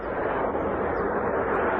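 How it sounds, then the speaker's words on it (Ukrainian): Geran-3 jet-powered Shahed drone in the sky over Kyiv during an air attack, a sharp, piercing whistling roar held steady and fairly distant, with no other sounds. "кияни і не тільки почули незвичний різкий і пронизливий свист у небі"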